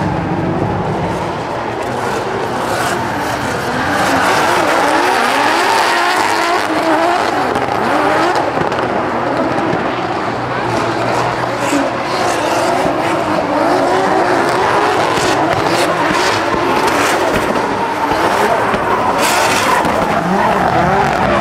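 Drift cars at a car show in Thailand, tires squealing and skidding continuously with engines roaring, loud and dense, with repeated surges of screeching rubber over the whole stretch.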